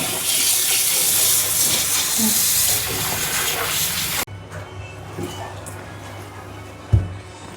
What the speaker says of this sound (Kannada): ಮೊದಲು ಈ ರಾಗಿನ ಚೆನ್ನಾಗಿ ತೊಳ್ಕೊಂಡು ಬಿಡೋಣ ಒಂದು ಎರಡರಿಂದ ಮೂರು ಸತಿ ಅಂತೂ ತೊಳಿಬೇಕು